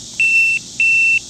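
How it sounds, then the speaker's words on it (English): A Minelab ProFind 25 pinpointer powering on gives two loud, steady electronic beep tones in close succession, the second held slightly longer, each starting and stopping cleanly. "You'll have 2 beeps and then a little beep afterwards."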